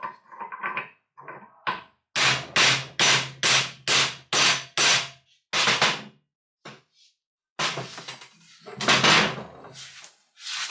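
A hammer taps a socket onto a part during a sawmill saw-guide restoration, striking about a dozen sharp metallic blows in quick, uneven runs with short pauses between groups, loud and close.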